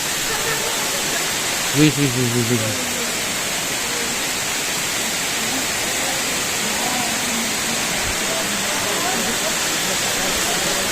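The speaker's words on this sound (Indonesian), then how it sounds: "Di situ ada air terjun lagi" An East Java waterfall roars in a steady, loud, continuous wash with no breaks, and a man briefly exclaims early on.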